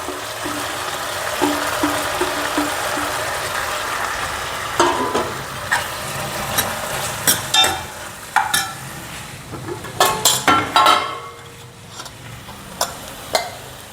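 Sprouted green moong dropped into partly cooked frying potatoes for a quick sabzi, with a steady background sizzle and a run of sharp scraping stirs and clinks that grow louder and more frequent toward the end.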